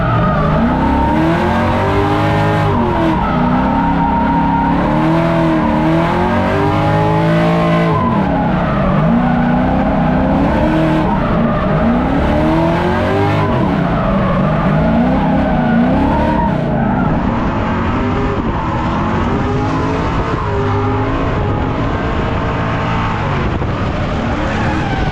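A drift car is driven hard on a race track, with a loud engine revving up and down in repeated sweeps under continuous tire squeal and skidding. It stays close and intense throughout.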